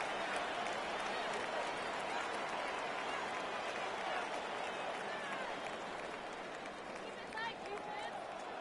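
Stadium crowd buzz at Mile High during a Madden 26 AFC Championship game between the Patriots and Broncos, a dense steady roar with scattered cheers under continuous commentary.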